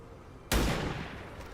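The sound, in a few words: gunfire in the video game XCOM 2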